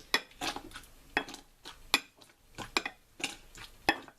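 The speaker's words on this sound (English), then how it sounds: "I'll take the cup in which this pretend gelatine lies and press down like" A cup pressed down repeatedly into blueberries in a kitchen, making a series of soft, squelchy thuds and light clinks at an irregular pace, close up, with no talking.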